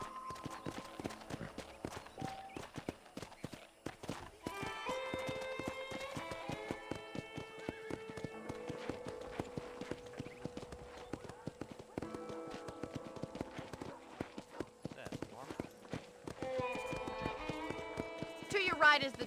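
Horse hooves clip-clop at a steady trotting pace in the Western video game Red Dead Redemption, a brisk rhythmic beat running under game music and ambience, with a whinny near the end.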